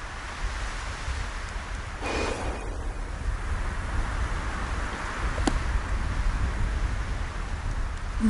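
Continuous rain in the video game Octopath Traveler 2 patters and hisses evenly, a dense wash of sound with a couple of faint brief swishes, no voices.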